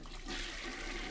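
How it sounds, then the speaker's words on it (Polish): Toilet flushing in a hotel-themed horror video game: a short, fairly quiet rush of water with no voices over it. "Spuść wodę"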